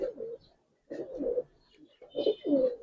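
Giribaz pigeons at a loft coo in three soft, throaty bursts separated by short pauses, close by and moderately loud, with no talking.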